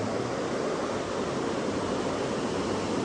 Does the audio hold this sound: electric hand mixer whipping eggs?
no